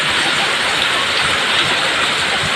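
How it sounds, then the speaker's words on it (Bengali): Loud, dense downpour of heavy rain, a constant hissing roar with no pauses. "এত বৃষ্টি হচ্ছে"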